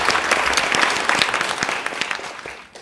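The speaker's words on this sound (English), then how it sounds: "One round of applause for Alia, please." An audience at a museum festival forum event claps, individual hand claps standing out sharply in a lively burst that gradually thins and fades out toward the end.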